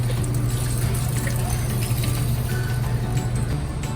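Boil-out water being dumped down a deep fryer drain tube, a steady continuous wash of rushing and splashing liquid at close range with a low hum underneath, no talking.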